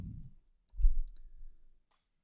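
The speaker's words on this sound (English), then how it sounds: "So go ahead and type npm run build." A few faint, quick keyboard key clicks as a command is typed, brief and soft over a low background rumble.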